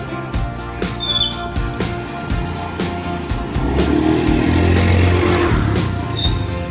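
A motorcycle rides off and picks up speed after its fuel injector was cleaned at home, the engine note building steadily from close by, with some clattering and faint squeaks alongside.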